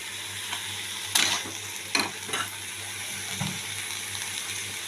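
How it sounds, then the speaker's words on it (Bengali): Spice masala fries in a pan for a white soybean dish, giving a steady sizzle broken by a few sharp scraping stirs from a spoon. "খুব ভালো করে একটু কষিয়ে নিয়ে আমি দিয়ে দেবো গিয়ে সয়াবিনটা"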